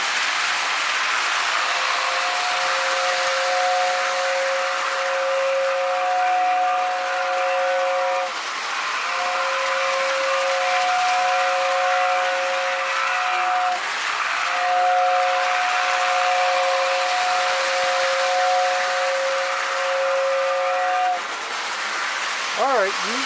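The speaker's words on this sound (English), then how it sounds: "The tender does work. The whistle." Steam-style whistle from the tender of a 1950s postwar model train, three long two-tone blasts separated by short breaks, loud and close over a steady rumble of running track noise.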